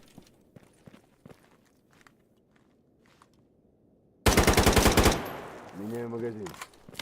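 Ruger gunfire in the video game GAMMA: soft footsteps patter for a few seconds, then a sudden loud, rapid burst of shots that rings out and decays, with a brief voice-like tone afterward.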